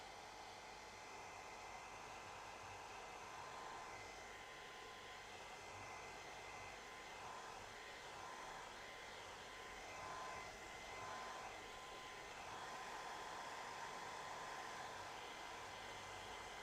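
A hair dryer blows steadily and close up over a watercolour painting of crashing waves, a constant airy roar that barely changes in level for the whole stretch with no talking.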